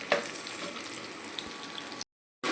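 Carrots stirred in a pan of hot oil give a steady, close sizzle of frying, briefly cutting out near the end before resuming.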